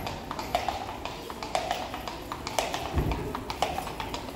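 Horses' hooves clop on a street in Krakow, giving a steady rhythm of crisp taps at a moderate distance over background street noise.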